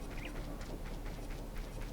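Chickens clucking in the video game Ocarina of Time, a dense overlapping flurry of short bird-like calls running continuously for a couple of seconds.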